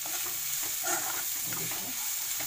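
Black pepper powder frying in a pan for an American chop suey sauce, a close steady sizzle with light stirring scrapes, no voices.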